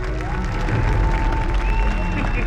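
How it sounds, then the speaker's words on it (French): A crowd applauds in a stadium arena, a continuous wash of clapping and murmuring voices that stays steady and fairly loud throughout. "applaudissez à tout rompre!"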